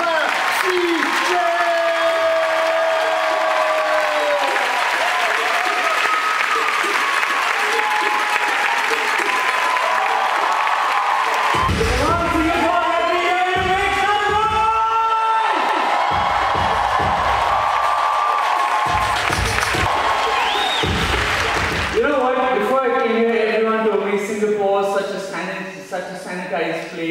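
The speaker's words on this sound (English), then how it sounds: "Keep that applause going for Papa CJ!" A crowd of about 1600 at a comedy show in Singapore applauds and cheers loudly and continuously for Indian comedian Papa CJ, with a voice talking over the steady clapping.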